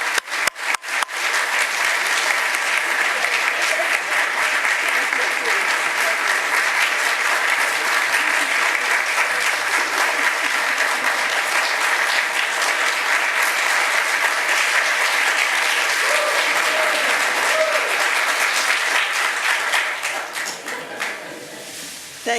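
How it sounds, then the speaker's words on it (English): A large audience at an anniversary celebration applauds warmly, dense sustained clapping building quickly and holding for about twenty seconds before tapering off. "please help me to welcome and give Dr. Pereira the warmest and strongest applause"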